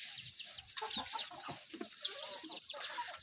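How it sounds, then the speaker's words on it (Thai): Wild junglefowl chicks raised by hand, three of them, clucking and peeping in quick high chirps through the whole stretch, fairly close, over a steady outdoor background hum with no talking. "นี่เด้อเนาะอันลูกไก่ป่าที่เคยเอามาเลี้ยงหั่นนะ"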